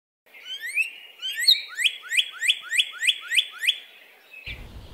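Wild birds calling at a backyard feeder stocked with sunflower seeds: a clear, close series of about eight rhythmic, rising chirps repeated in quick succession, ending with a brief rustle.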